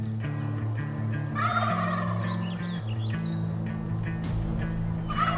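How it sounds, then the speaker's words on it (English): Young wild turkeys (jakes) gobble in repeated rattling bursts over a steady low hum, fairly clear at middle distance, with no talking. "with the jakes gobbling like that, a lot of times older gobbler will gobble"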